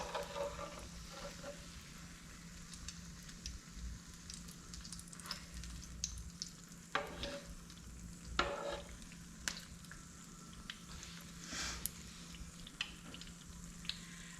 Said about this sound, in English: I'm using peanut oil to fry my pies in.